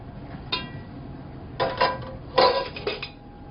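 Corned beef hash is scooped onto a plate with a utensil, giving several light clinks and scrapes of metal against crockery in quick short bursts over a quiet background.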